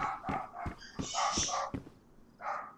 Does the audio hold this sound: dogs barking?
yes